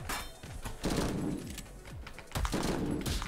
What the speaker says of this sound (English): Have you not heard every single gunshot in this area?